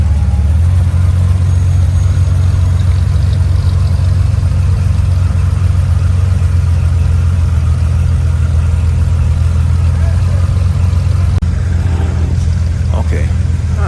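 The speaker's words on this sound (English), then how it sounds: "we have that Chevy Nova, the old school Ford. Sounds like it drinks gasoline for breakfast." At an outdoor Elks car show in Glendale, a classic Chevy Nova's engine runs loud and steady, a dense low rumble filling the whole stretch with a slight shift near the end.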